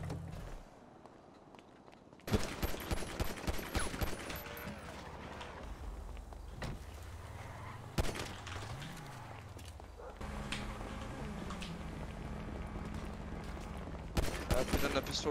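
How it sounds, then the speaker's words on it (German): Pistol fire in the FiveM roleplay mod of GTA V, sharp shots cracking out in bursts across a busy game soundscape, with people talking throughout. "Nein, nicht schießen. Hey, warum schießt du?"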